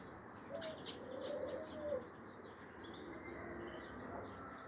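Faint wing flapping and soft cooing from pigeons in flight, with a few chirps over a low outdoor background.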